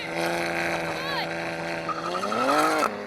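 BMW M3 with an upgraded exhaust racing a Ferrari, a loud sustained engine drone that rises in pitch through the gears before cutting off near the end, with a brief tyre-like squeal in the middle.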